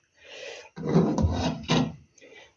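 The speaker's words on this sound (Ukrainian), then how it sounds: "а потім вже беру ключ і закручую" Glass jars of homemade plum jam being sealed with a hand seaming key, a few close scraping, rasping metal-on-glass turns in short bursts, with no talking.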